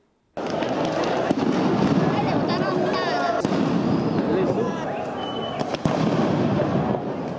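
Homemade explosives (papas bomba) go off during a university riot. Several sharp, loud bangs cut through dense, continuous crowd noise and shouting.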